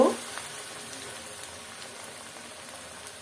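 Cabbage pakora frying in hot oil, a soft steady sizzle and faint bubbling that stays low and even throughout, with a short louder sound at the very start.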